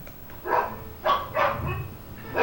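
Several dogs bark in short bursts, about four loud yaps in quick succession, close by with no talk over them.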